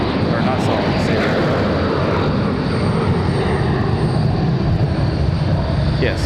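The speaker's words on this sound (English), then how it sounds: "Got a Delta 737 departing back to Atlanta, Georgia" Delta Boeing 737 departing Raleigh-Durham International for Atlanta, a loud sustained jet engine roar with broad rumble and hiss, steady throughout, with people talking over it.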